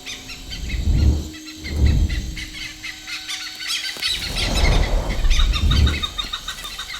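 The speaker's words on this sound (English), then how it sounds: "there's a disturbance. The local gang of pied hornbills" Pied hornbills in rainforest give loud, harsh squealing calls in several bursts. Deep whooshing rumbles swell between the cries, and the calls sound fairly close.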